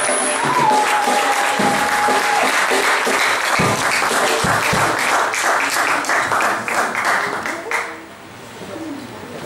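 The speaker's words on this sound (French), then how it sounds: "Quand le pasteur va s'approcher, applaudissons pour notre pasteur." Church congregation applauding the pastor as he approaches, dense steady clapping from a crowd that fades near the end, with a faint sustained tone early on.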